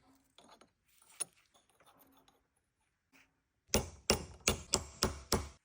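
Pressing a new wheel bearing into an Audi 100 C4 hub starts with faint scattered clinks, then six sharp, loud metallic strikes land in a steady rhythm at close range.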